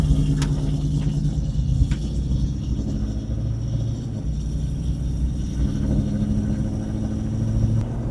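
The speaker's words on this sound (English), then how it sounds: "then we'll drive the rest of the way down to Miss Addie's." An LS-swapped K5 Blazer driving down the road, its engine a steady low rumble heard from inside the cab, with slight rises in revs and no talking.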